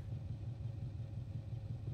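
A 6.5 liter V8 engine idles steadily in the BeamNG driving simulator, a low, even rumble with a pulsing throb throughout, moderately quiet and with no voices over it.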